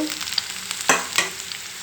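Ivy gourd pieces frying with onions in a pan, a bright steady sizzle close by with a couple of louder scraping stirs partway through.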